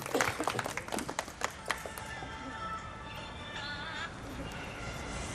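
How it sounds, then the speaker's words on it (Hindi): An audience at a women's community Holi gathering and felicitation ceremony claps in a brief burst of applause, loudest at the start and fading into room murmur within about two seconds. "जोरदार तालियों से अभिनंदन पूनम"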